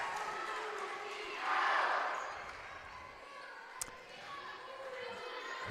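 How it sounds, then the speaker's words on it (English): A home crowd at a high school volleyball match reacts to a serve going out, a brief swell of cheering and shouting that rises and fades within a couple of seconds over steady gym ambience. "Hometown crowd let them know it was out."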